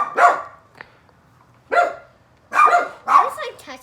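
Several dogs bark in short bursts in the background of a room during a Christmas gift unboxing, a single bark and then quick clustered volleys, fairly loud and yelping, with no speech over them.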